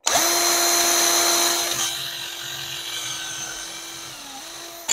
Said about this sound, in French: On reprend une mèche plus grosse